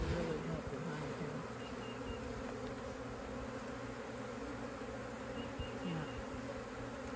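Honeybees buzzing in a healthy open hive full of brood, a dense steady droning hum from many bees, close and continuous throughout.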